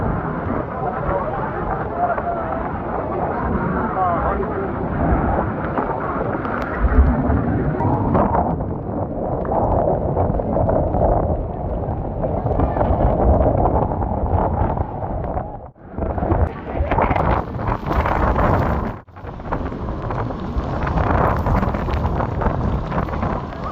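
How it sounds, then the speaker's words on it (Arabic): Strong wind during heavy rain in Makkah roars and buffets the microphone in a continuous, loud rush that swells and briefly dips, with no clear speech. "الله هواء شديد."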